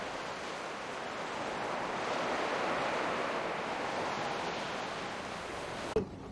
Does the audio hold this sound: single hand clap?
no